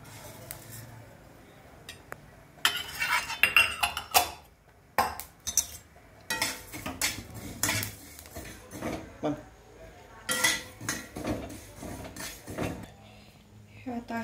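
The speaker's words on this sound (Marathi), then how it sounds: "आता बडीशेप भाजते." Fennel seeds dry-roasting on low heat in a pan, stirred with a utensil, making close, irregular clinks and scrapes in uneven bursts, with faint background noise between strokes.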